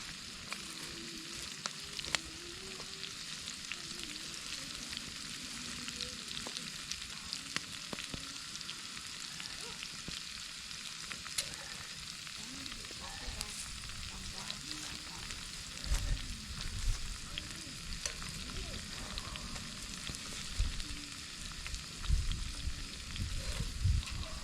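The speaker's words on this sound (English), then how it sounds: "I want it a little bit hotter so these fry up a little quicker." Food frying in a pan set over a campfire gives a soft, continuous sizzle with occasional crackles and light knocks, fairly quiet and steady throughout, without speech.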